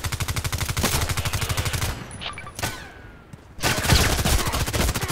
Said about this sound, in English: he was just running on the corner and shooting